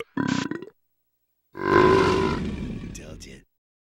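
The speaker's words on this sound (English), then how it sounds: "A burp challenge" A voice performs a long, deep, rumbling belch in a burp challenge, a short grunting noise leading in before a sustained croaking burp of about two seconds that fades at the end.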